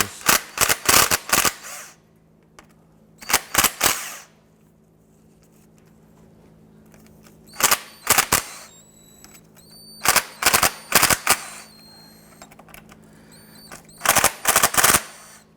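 A ratchet loosening the transmission oil pan bolts on a 2006-2013 Chevrolet Impala: short bursts of rapid, crisp clicking, repeated in about seven separate groups with quiet pauses between them.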